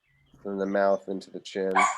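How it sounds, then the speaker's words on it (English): A dog barks and yips indoors in short, close bursts while a person keeps talking over it. "Sorry about the barking."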